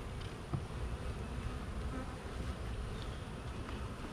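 Agitated honeybees swarm an open hive during a varroa mite check, a dense, steady buzzing drone that stays close and loud throughout with no talking.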